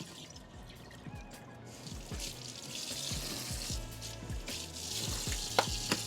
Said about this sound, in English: I drain them and then fill the cans with water,